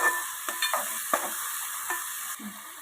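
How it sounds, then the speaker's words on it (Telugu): Ground masala paste for farm-chicken curry stirred and frying in a pan, a steady soft sizzle with several scraping spoon strokes, close and fairly quiet, no voices. "ఇది కూడా 2-3 నిమిషాలు బాగా వేగేంత వరకు మనం వేయించుకోవాలి."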